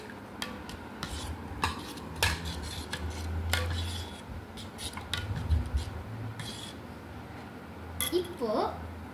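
A spoon stirs tender coconut payasam, scraping and clinking against the vessel in a steady, close rhythm, with brief rubbing strokes and a few sharper taps.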